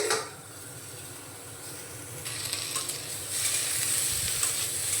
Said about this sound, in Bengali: আমি উচ্ছেগুলো একটু হালকা করে ভেজে নেব।